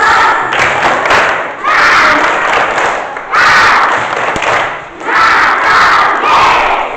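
A church congregation in Kutai Barat does a Christmas clap chant, loud rhythmic bursts of group clapping and shouting in three or four surging waves with brief dips between them.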